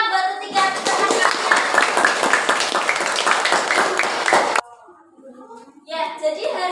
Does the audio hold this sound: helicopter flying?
no